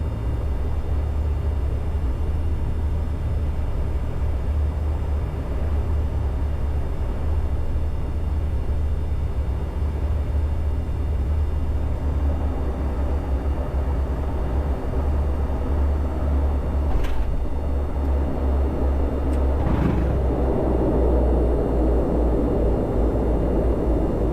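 An aged Air Kenya Dash 7 four-engine turboprop in the Masai Mara accelerates on its takeoff roll, a loud, unbroken broadband engine roar heard from inside the cabin, steady throughout.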